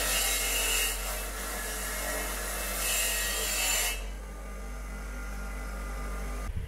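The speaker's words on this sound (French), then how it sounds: "Je vais mettre un coup de brosse métallique là, sur les deux parties ici, déjà pour enlever un peu les croûtes de rouille qui tiennent pas" A wire brush scrubbing rust crust off the suspension bearing mounts of a VW T3 van, a harsh, close rasping scrape in steady strokes, louder bursts that stop after about four seconds, leaving a low hum.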